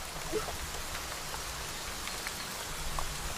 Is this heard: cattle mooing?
no